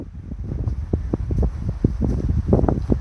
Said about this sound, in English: Heading down Muley Canyon with the ever-present wind.